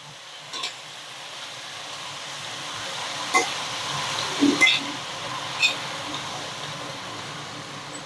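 Chopped spinach stirred in a pan, with quiet sizzling and occasional soft scrapes and clinks of a spoon against the pan, fairly faint and steady with no talking.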